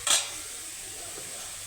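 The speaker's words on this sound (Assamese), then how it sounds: "এইপিনে মই ভাজি আছোঁ শাক" Leafy greens fry in a pan at home: a sharp metallic clink of a utensil at the start, then a steady, soft sizzle that continues alone.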